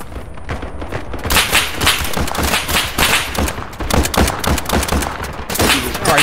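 Video game gunfire from one player unloading on a charging enemy squad, dense rapid shots in continuous bursts, loud and close, with a short quieter opening before the firing.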